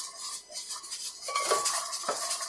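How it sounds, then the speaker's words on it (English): Hot roasted tomatoes are moved into a blender in a home kitchen, with clinking utensils, soft wet thuds and scraping against the container in a steady busy run, close and moderately loud. "Just transfer them directly into the blender here."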